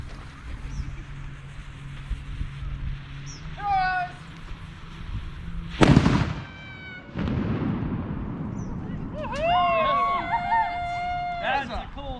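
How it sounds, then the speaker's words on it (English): A homemade cannon fires outdoors with a sudden loud blast, followed by a rumbling roar and lingering noise, while people chatter and shout excitedly around it. "we're getting ready to set the cannon off"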